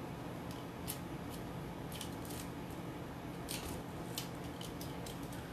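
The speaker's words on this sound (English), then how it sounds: "So I'm going to cut this piece that's going to wrap onto the front." Scissors snip through a furniture transfer sheet in a quiet room, a handful of short, crisp cuts in irregular bursts.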